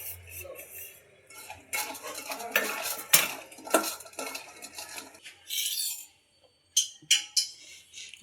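A spoon clinks and scrapes against a bowl while cauliflower pieces are mixed with cornflour for gobi, giving bursts of stirring and tapping with short pauses and no talking.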